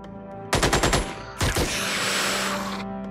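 Automatic gunfire rattles in the Xenonauts strategy video game, two loud rapid bursts of shots followed by a sustained noisy roar, with no talk over it.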